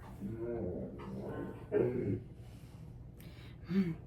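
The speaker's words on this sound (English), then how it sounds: "My dogs, they're fighting in the background." Dogs scuffle in the background with low growls, yelps and whimpers, fairly faint and coming in short bursts.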